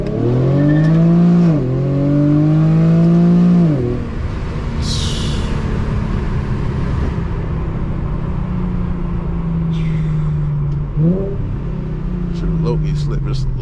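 An Infiniti G37 accelerates at night with a loud engine rising through the gears, then settles into a steady cruising drone before another brief rev, with a voice talking occasionally.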